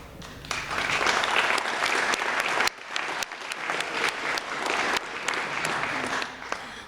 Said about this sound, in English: Let's give all of our new CoMeT students another round of applause.